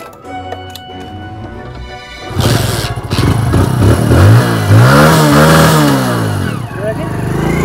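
A motorcycle engine revs hard at a village petrol pump, the pitch rising and falling in repeated surges after a quieter idle, loud and close, with voices talking over it.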